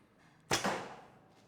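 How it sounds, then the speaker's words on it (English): A single arrow loosed from an Allawn Aswad bow with a thumb-style release strikes a target about 8 meters away, one sharp close snap and thud followed by a brief fading rattle. "Let's start with the first arrow."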